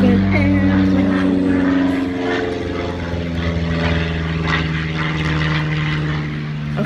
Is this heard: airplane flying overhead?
yes